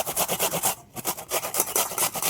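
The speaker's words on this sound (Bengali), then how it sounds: "এটা গ্রেট করে নেব।" Tomato and onion are grated by hand for a crab curry, giving quick rhythmic rasping strokes, close and steady, with one brief pause midway.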